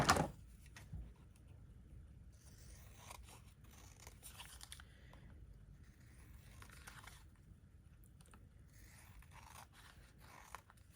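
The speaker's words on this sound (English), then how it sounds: "so I'll cut around the edge of that." Scissors snip around the edge of card stock for a handmade card, a close, quiet series of crisp cuts and paper rustles in irregular bursts.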